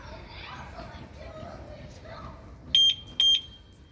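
Two short, sharp electronic beeps from an Arora CRV 125 motorcycle alarm sound near the end, following quiet background chatter of voices.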